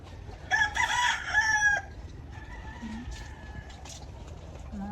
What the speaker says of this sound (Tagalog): Mga chicken roaster dito. Chicken roaster.